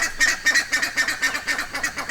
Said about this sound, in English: As I thought, buff-necked ibis. There's a pair there duetting.